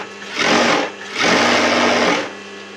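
A sewing machine runs a long stitch along a 1-inch fold on a blouse, in two close, loud bursts of fast, steady whirring with a short pause between.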